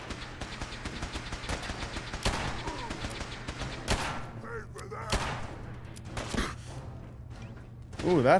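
Enemy gunfire in Fallout 4 arrives as a rapid string of sharp shots and thuds, dense and loud at the start, thinning into scattered bursts with a steady low hum beneath.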